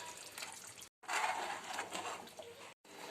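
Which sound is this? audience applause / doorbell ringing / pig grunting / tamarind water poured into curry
tamarind water poured into curry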